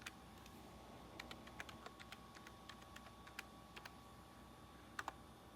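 Keys clatter on an iMac G5 keyboard balanced on a leg, scattered light clicks in short uneven runs with a couple of sharper taps near the end, faint and close against a quiet room hiss.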